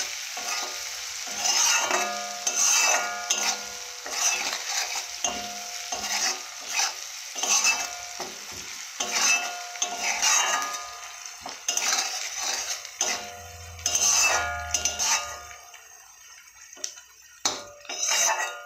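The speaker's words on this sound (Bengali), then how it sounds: "এইভাবে ভালো করে কষে নেব কিছুক্ষণের জন্যে।" Onion being stir-fried with turmeric in a pan, a spatula scraping and clinking steadily against the metal over a soft sizzle, close and continuous with short pauses between strokes.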